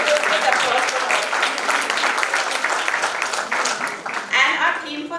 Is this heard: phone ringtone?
no